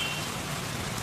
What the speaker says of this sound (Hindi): बारिश रुके के नाम नहीं लेवा।